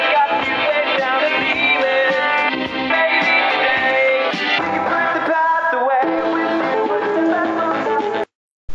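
A rock song plays steadily and loudly as a full band mix, dropping out abruptly near the end.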